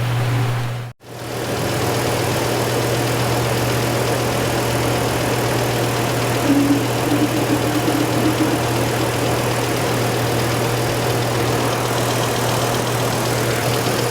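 A car engine idles steadily after coolant work, with air being purged from the cooling system. The low, loud, even hum runs continuously after a brief dropout near the start, and no one speaks.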